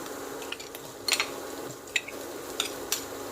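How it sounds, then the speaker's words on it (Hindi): Ginger and onion stir-fry in a pan with a soft sizzle, while a utensil knocks and scrapes against the metal in several sharp clicks spread unevenly through the clip. "साथ ही हम इसके अदरक डाल देंगे और इनको अच्छी तरह से भून लेंगे।"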